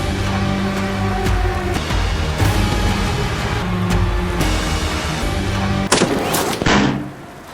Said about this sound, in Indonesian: Tembakan Chris yang tadi sebenarnya berhasil menembus tubuh si Dragon